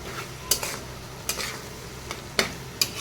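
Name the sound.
dried fish frying with garlic and onion in a pan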